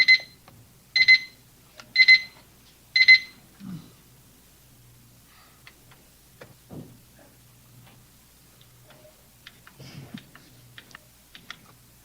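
At a council meeting, an alarm beeps four times in an even one-second rhythm, fairly loud at first, then gives way to quiet room noise and faint shuffling.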